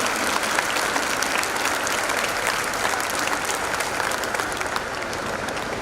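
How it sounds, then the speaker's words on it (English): A loud, dense round of audience applause for kindergarten children at a school annual day, sustained evenly from start to finish with no talk over it. "Can I hear a loud round of applause for our babies of Neumann and St. Gerard Kindergarten?"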